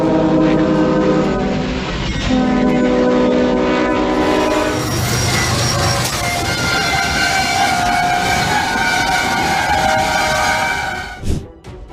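A train blares its horn as it strikes a car stalled on the rails, then grinds and scrapes loudly along the track in a long, continuous roar before an abrupt drop.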